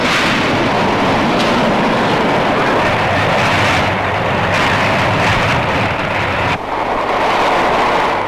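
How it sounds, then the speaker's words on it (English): A Glasgow subway train runs through its circular tunnel with a loud, steady rumble and roar that holds throughout, shifting slightly as it moves along the track. "There's a train every 3 minutes."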